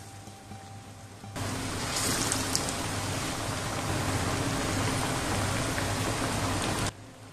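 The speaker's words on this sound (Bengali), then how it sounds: "মিডিয়াম হিটে এটা ভেজে নিতে হবে ভালো করে মুচমুচে করে" Jackfruit cutlets drop into hot oil and fry at medium heat, a sudden loud, dense crackling hiss that holds steady for several seconds before cutting off.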